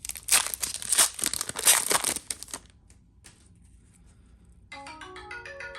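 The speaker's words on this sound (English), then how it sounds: "there's that phone again. Had that go off a few times." Loud crinkling and crumpling of card-pack wrappers during a 1999 Topps football hobby box opening gives way to quiet, then a phone ringtone starts up with a bright repeating melody near the end.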